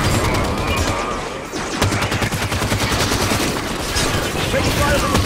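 Rapid gunfire from Halo 5's Warzone multiplayer mode, with dense bursts of shots rattling almost continuously over about five seconds with only a short lull, set against game sound and some background voice.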